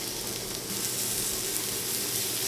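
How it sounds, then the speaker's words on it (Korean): Sliced onion, carrot and mushroom stir-fry in a hot pan with meat and garlic for a Japanese-style steak, giving a steady, loud, close sizzle throughout with no voices. "야채를 볶아보도록 하겠습니다. 제일 썰어놓은 양파, 당근, 버섯도 같이 넣겠습니다."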